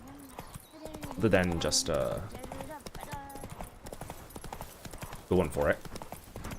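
Roach, a horse in The Witcher video game, trotting with steady clip-clopping hooves close by, while someone talks over the hoofbeats.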